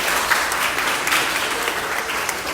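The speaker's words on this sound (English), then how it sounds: "So let's give a round of applause for Broadway Blooms." Steady crowd applause at a county fair Little Miss and Mister contest, a dense continuous clapping that stays loud and even from start to finish with no voices over it.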